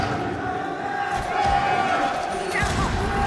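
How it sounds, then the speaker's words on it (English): Esports arena crowd of FaZe Clan fans at a Rainbow Six Siege semifinal, a steady wash of distant cheering and chanting that holds at an even level with a few swells. "the FaZe clan crowd trying their best to provide some voice here"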